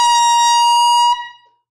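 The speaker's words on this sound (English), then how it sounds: "we got to bring out the air horn again" An air horn lets out one loud, steady blast about a second long that cuts off sharply, leaving a short ringing decay and no voices.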